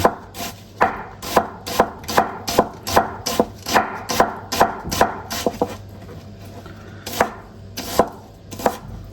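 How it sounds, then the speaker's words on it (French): A very sharp knife finely slicing chicken breast on a cutting board for a creamy chicken and button mushroom dish, giving a steady run of crisp, close chopping taps roughly twice a second throughout, with no voices. "Et là, on émince finement."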